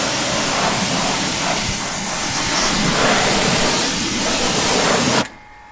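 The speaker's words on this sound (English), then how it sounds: "we're going to rinse the tyre off" A car tyre is rinsed with a water spray, a loud, steady broadband hiss of water hitting rubber for about five seconds before it abruptly cuts off.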